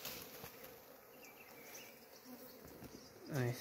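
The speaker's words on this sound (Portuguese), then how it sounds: "As abelhas tão braba." Angry bees swarm around honeycomb packed in a rock crevice, a dense, close buzzing drone that holds steady throughout, with a louder bee passing right by the microphone near the end.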